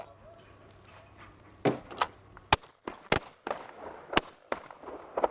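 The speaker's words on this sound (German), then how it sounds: "Vier Schuss vorbei." Gunshots at an outdoor shooting range, a series of sharp, loud single cracks spaced about half a second to a second apart after a quiet start, with some faint background chatter.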